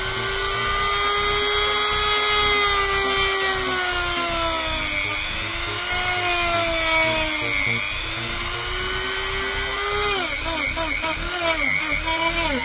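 A power tool trims a homemade carbon fiber part with a loud, steady high-pitched whine that slowly sags in pitch, then breaks into choppy, stuttering cuts near the end.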